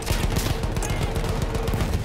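Sustained rapid gunfire in the World War I shooter Battlefield 1, a dense continuous rattle of shots that fills the whole stretch, loud and close with no speech.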